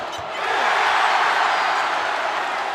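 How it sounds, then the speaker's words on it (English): A basketball arena crowd at a Kansas State home game swells into a loud, sustained cheer after a missed free throw, broad and roaring, lasting a couple of seconds before easing slightly. "That cheer was for breadsticks"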